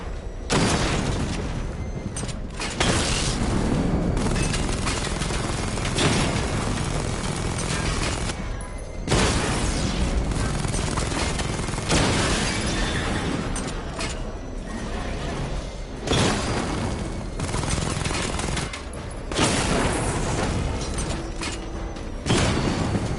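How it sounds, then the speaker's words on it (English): Repeated heavy booms and blasts from a video game missile barrage, loud and dense, coming in bursts across the whole stretch with brief gaps between volleys. "Charge the missile barrage to level 2 to destroy up to 4 targets at once"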